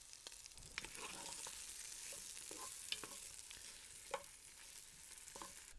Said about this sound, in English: while our sausage and onions brown for about 10 minutes